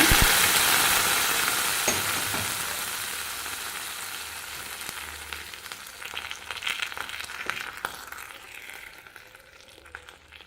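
Tempering sizzles hard as it is poured into mango mor kuzhambu, a loud hiss that crackles at first, then settles into quieter bubbling and popping with scattered clicks.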